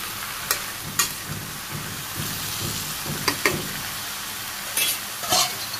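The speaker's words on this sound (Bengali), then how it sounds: "সবজিতে লবণ পরিমাণ মতো নেড়ে চেড়ে কষিয়ে নিই" Vegetables and fish fry in a pan while being stirred, giving a continuous sizzle under repeated scraping strokes and sharp clinks of the utensil against the pan, close by.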